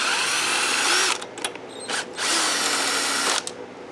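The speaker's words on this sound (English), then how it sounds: "So now I'm just going to go ahead and take the 2 bolts out of the carburetor." A power tool whirs steadily while backing two bolts out of the carburetor on a Troy Bilt lawn mower. It runs in long, loud bursts with short pauses between them, and no one talks.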